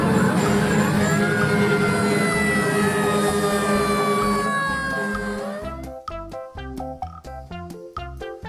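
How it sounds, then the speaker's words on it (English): A fire engine siren wails loudly with sweeping rising and falling tones for about five seconds, then fades as rhythmic music takes over. "Fire engine."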